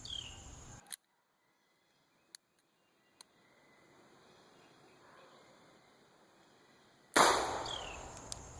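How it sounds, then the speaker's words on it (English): A Ruger SP101 revolver fires a single loud, sharp live round near the end after mostly quiet moments with a few faint clicks. "Here's what it looks like with staging that trigger before firing with live ammo."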